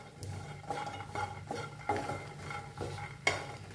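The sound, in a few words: roasting coconut in pan with stirring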